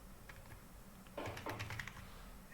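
A burst of computer-keyboard typing, rapid clustered keystrokes while entering a transaction report query, close and fairly quiet, with lighter scattered taps before and after the main flurry.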